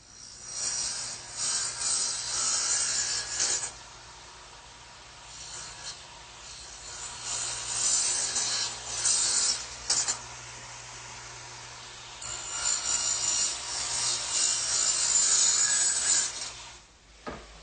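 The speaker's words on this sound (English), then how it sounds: "I'm going to have to swing my radial arm 4 degrees on the other side of 0 to make these cuts" A radial arm saw angled a few degrees cuts wood in a workshop, a rasping, noisy whine that rises and falls over several passes, with short quieter gaps between cuts and no talking.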